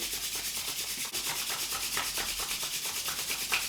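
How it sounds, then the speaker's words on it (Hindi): Palms rub briskly together during a yoga session, making a steady, close, rhythmic swishing friction that goes on for several seconds with an even back-and-forth pulse. "हाथों को रब करिए"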